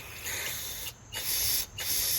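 A steady aerosol hiss of carburetor cleaner sprays in bursts into a Briggs Quantum 6.5 HP lawnmower carburetor, cutting off briefly twice before resuming, close and fairly loud with no voices.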